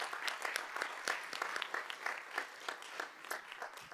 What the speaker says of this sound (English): So a round of applause for our two staff members.